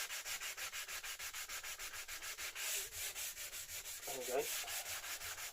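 Wood veneer is sanded by hand with foam-backed sandpaper in steady, rhythmic back-and-forth strokes, close and even throughout, with someone briefly speaking near the end.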